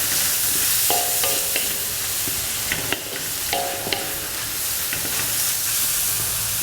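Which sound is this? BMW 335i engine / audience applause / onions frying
onions frying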